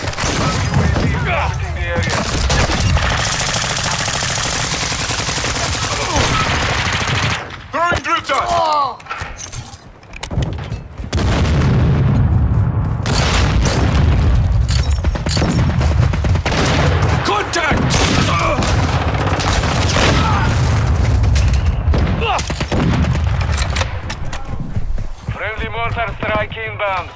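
Chaotic gunfire and explosion bursts from a DMZ video game firefight, loud and dense with brief lulls, mixed under excited talking from players.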